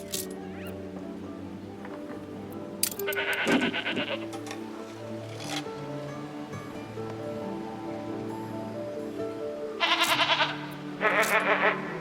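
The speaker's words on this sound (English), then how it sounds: "The goats! Singing goats." Goats bleat in the video game Anno 1800, with several wavering, tremulous bleats heard over a steady musical and ambient game soundtrack, and a pair of loud, close bleats near the end.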